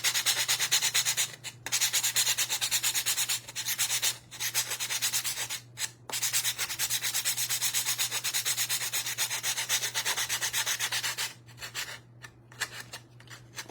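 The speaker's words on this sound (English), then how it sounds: "we're gonna actually sand both sides down." Sandpaper rubbed steadily back and forth along the edge of a canvas for a painted Mod Podge craft project, a close, continuous scratchy rasp broken by a few brief pauses.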